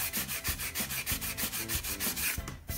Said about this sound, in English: I'm using my radius block and some 150 grit sandpaper here just to try to take off the extra glue.